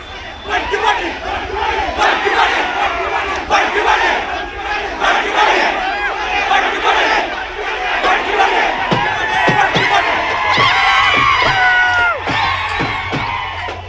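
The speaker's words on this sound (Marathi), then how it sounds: "हा सुरू असलेला जल्लोष बघा" A large crowd of supporters celebrating municipal election results in Kolhapur, India, shouts, whoops and cheers continuously, loud and close, with dancing energy and scattered sharp claps or beats toward the end.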